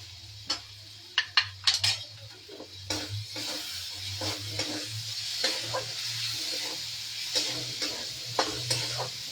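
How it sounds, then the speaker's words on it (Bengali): Ginger garlic paste frying with onions in a pan for a paneer-stuffed chapli kebab, giving a steady soft sizzle with stirring scrapes and a few sharp utensil clinks early on, plus a low hum underneath. "আদা রসুন পেস্টটা একটু ভাজা হোক।"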